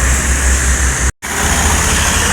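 An intercity bus from West Sumatra on the Jakarta to Padang route rumbles past on the road at night, a steady loud engine and road roar with a brief dropout midway.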